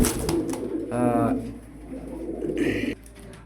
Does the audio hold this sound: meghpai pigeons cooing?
yes